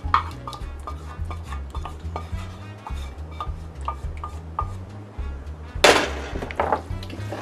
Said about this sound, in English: Just make sure everything is stirred good and coated.